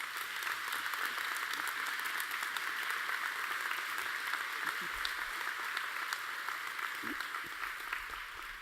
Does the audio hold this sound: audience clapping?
yes